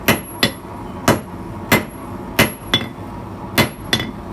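A hammer strikes a tapered steel slot punch, flattening one side in a forge, with seven sharp, ringing blows at a steady but uneven rhythm, close and loud, and no talking.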